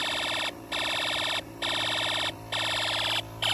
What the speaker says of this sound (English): or you can make it sound like a machine gun siren